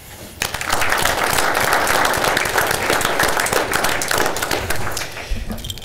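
Audience applause at a city council meeting, a steady dense wash of many hands clapping that starts abruptly, holds loud and even for about five seconds, then tapers off near the end.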